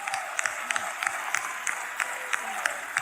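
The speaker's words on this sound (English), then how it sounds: "Our hands together for Jesus." Church congregation clapping hands for Jesus, a full crowd of steady applause with sharp, loud claps punctuating it in a rough rhythm, with a voice briefly audible over the clapping.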